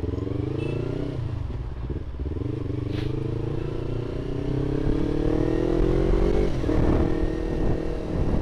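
A Yamaha R25 motorcycle rides along with a steady engine drone whose pitch climbs through acceleration, close and loud with wind and road noise and no talk.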